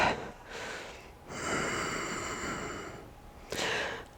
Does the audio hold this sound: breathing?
yes